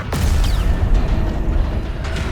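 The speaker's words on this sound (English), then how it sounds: "That explosion came from the propulsion deck." An explosion aboard a ship in the video game Destiny 2 hits with a sudden loud boom, followed by a sustained low rumbling roar and metallic creaks.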